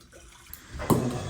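Water poured into a dish of food being reheated for a meal, a brief splash and gurgle swelling up partway through, fairly close and loud against a quiet room.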